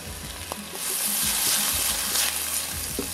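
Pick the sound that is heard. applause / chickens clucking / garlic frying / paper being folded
garlic frying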